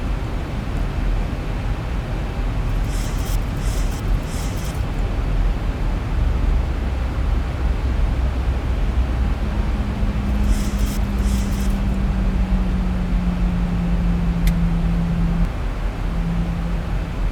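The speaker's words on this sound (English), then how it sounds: "those engine sounds are good" Engines of a Boeing 737 Zibo mod in X-Plane 12 during landing rollout, a loud steady broadband roar with a low tone that slowly falls as the jet slows, plus a few brief clicks; no talking.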